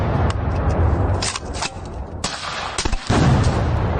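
Gunfire in Ukraine war combat footage: sharp cracks and bursts of shots over a rumbling background, the shots coming irregularly and growing denser toward the end.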